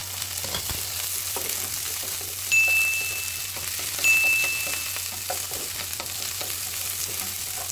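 Chopped onion sautéing in a pan for a chicken and kangkong dish, giving a steady close sizzle and crackle with a low background hum and two brief thin tonal beeps partway through, no talking.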